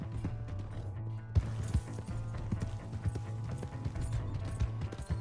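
Horse hooves clip-clop and pound in Red Dead Redemption 2, a quick irregular gallop of thuds over a low steady hum, moderately close.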